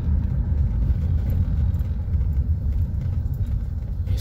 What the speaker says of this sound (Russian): Переезжаем рельсы.